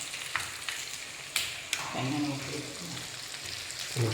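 Sardines sizzle steadily in a frying pan with oil, sharp spatters and occasional utensil clicks standing out, and a voice murmurs briefly near the end.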